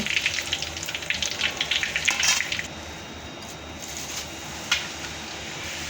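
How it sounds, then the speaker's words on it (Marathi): Poha deep-frying in hot oil for chivda, a loud bubbling sizzle surging for the first couple of seconds, then settling into a steadier, quieter frying hiss with one brief burst near the end. "अशाच पद्धतीनं आपण सगळे तळून घेऊ"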